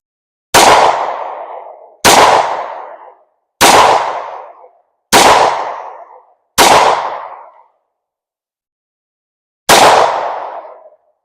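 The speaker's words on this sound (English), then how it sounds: "I'm going to take a few shots at the target first though." Six sharp Ruger RXM pistol shots fired at a target, loud and close, five in an even rhythm about 1.5 seconds apart, then a pause before a final shot, each with a short ringing decay.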